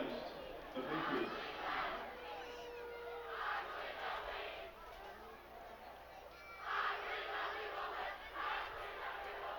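A high school football crowd roars and chants at Millard South vs Omaha Burke, the Burke student section at a pink-out game. The noise is loud and steady, with rhythmic shouted surges that rise and fall several times.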